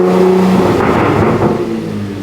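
A Ford F-150 V engine revs hard through an AWE exhaust kit, giving a loud, deep-toned roar that swells and then eases over about two seconds, close to the listener.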